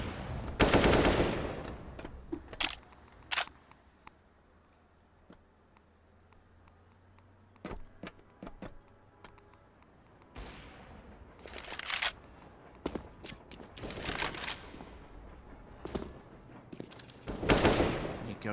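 AK rifle bursts and sprays of automatic fire in Counter-Strike on the Train map at a DreamHack Masters Dallas match, sharp clustered shots and rattling bursts spread across the stretch with quieter gaps between.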